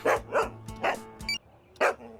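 A dog barks several times in short, sharp bursts, fairly close and loud, with brief quiet gaps between the barks.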